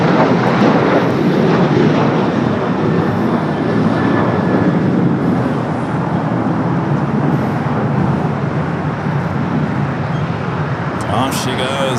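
A United airliner roars on its takeoff roll from runway 25 right at LAX, a steady broad engine rumble holding loud throughout, with wind buffeting and faint voices mixed in.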